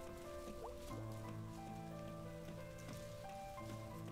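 Faint, steady rainfall in the video game Night in the Woods, a continuous patter of drops on a surface with a soft layer of sustained game music tones beneath, no voices.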